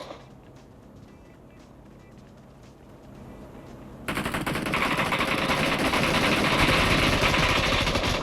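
Gunfire in a mobile shooting game played on a Huawei Mate 40 or Xiaomi Mi 11 phone: rapid automatic fire that jumps from a moderate level to a loud, dense, continuous barrage halfway through.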